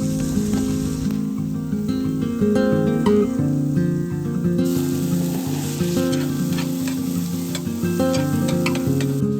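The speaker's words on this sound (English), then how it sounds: "I have some noodles boiling over here, and this is ground up turkey." Ground turkey sizzling in a pan over a campfire beside boiling spaghetti noodles at a Grand Canyon camp, loud continuous frying crackle with stirring scrapes, heard alone against a faint musical backdrop.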